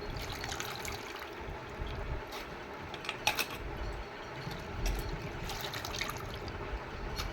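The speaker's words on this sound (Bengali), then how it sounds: "আমি এবার ধুয়ে নেব ভালো করে, 2-3 বার ধুয়ে নেব" Cut mango pieces being rinsed in water, with a steady soft sloshing and trickling of water as the pieces are swished and washed, faint and close, without talking.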